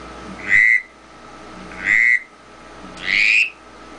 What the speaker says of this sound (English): One call I will never go out of the house without is my Drake whistle.